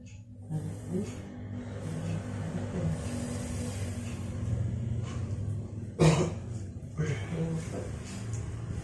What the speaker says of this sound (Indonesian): batuk efektifnya sudah selesai ya Pak